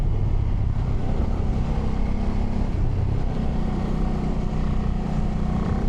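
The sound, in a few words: Ducati Multistrada V2s motorcycle engine while riding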